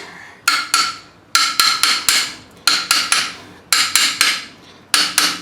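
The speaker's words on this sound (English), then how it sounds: "we'll go ahead and take a hammer" A hammer taps a front strut into place on a Trailblazer or Envoy, with sharp metallic blows close by, struck in quick bursts of three or four with short pauses between.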